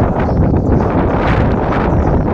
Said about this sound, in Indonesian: ini angin kencang, salah satu angin kencang